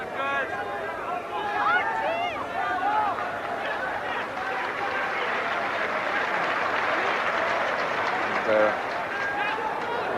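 A football stadium crowd applauds during a 1983 Wales versus Brazil friendly, steady clapping and crowd noise with a commentator talking over it.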